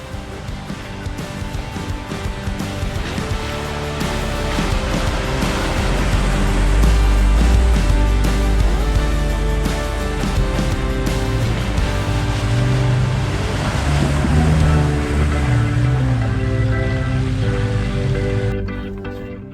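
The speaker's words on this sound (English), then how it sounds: "it's always fun riding through a little stream" Toyota Landcruiser 80 series four-wheel drive fording a small stream, with continuous loud splashing and rushing water under a low engine rumble, swelling through the middle and easing near the end.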